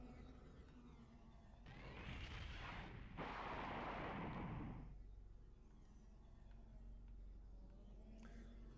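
A chaingunner enemy fires from a distance in Final Doom on PlayStation. Two dense bursts of rapid gunfire, each lasting a second or two, stand out over a low steady game drone.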